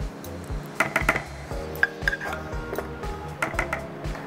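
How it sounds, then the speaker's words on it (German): Couscous being stirred into a vegetable mixture in a bowl, with a spoon clinking and scraping against the dish in irregular taps and chinks, close and fairly quiet. "Und jetzt mischen wir da den Couscous drunter."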